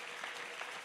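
Church congregation applauding after a sermon, a soft, steady patter of clapping heard from a distance for under a second.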